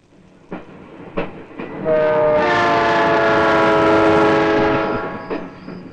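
A train rolls past at close range, a long sustained horn rising in loudness, holding steady, then tapering off over a heavy rumble of wheels and cars.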